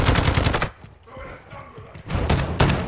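A game turret fires rapid bursts at enemy players, loud and dense at the start and end with a quieter gap in the middle, while voices talk over the shooting.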